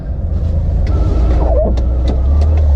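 A modified Renault Twizy, a small electric car, driving on an icy road, giving a steady low rumble and road noise from inside the cabin, with a few faint creaks and whirs over the top and no talk.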